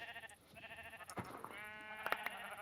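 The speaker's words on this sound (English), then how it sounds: "It's a quadruple wool farm, so it's got 64 total sheep." Sheep in a Minecraft wool farm holding 64 of them bleat in several wavering, overlapping cries, fairly quiet, with short clicks between calls and no speech.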